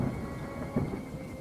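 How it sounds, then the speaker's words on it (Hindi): Heavy rain pours on a dark night beside a lake in an animated horror story, a dense steady roar with a low rumble of thunder swelling briefly in the middle. "आज जिस तरह झमझम बरसात हो रही है ना"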